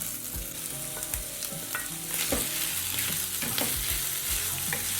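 Boned fish sizzles in a pan over medium heat for a Nigerian fish pie, a steady crackling fry with intermittent scraping and stirring knocks close by, no voices.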